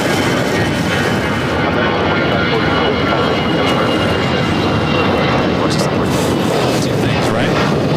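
Aircraft at LAX, a steady, loud broadband engine roar that holds throughout, with a faint radio or voice chatter in the background.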